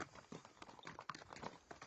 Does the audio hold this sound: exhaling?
no